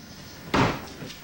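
A built-in drawer set into the wall of a bedroom in a home is pulled out with a single loud sliding thump and clatter, then fades to quiet room tone.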